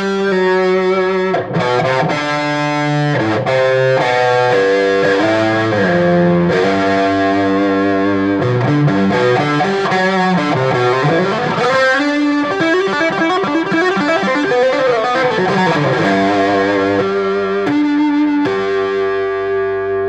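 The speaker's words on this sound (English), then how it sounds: "It's kind of a medium, mid-rangey overdrive." Electric guitar through a Mad Professor mid-range overdrive pedal, with a thick, mid-heavy tone, plays a continuous run of chords and riffs, loud and up close.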